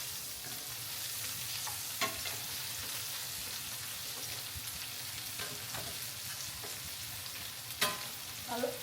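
Sausage frying in a pan and being stirred and turned: a continuous sizzle runs throughout, broken by a few sharp utensil scrapes and clanks against the pan, with no talking.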